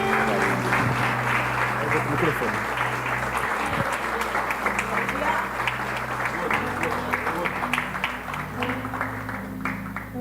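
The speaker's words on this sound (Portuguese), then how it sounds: "Aplauda o Senhor, igreja." Church congregation applauding during a worship service, sustained loud clapping throughout with voices mixed in and a low musical drone underneath.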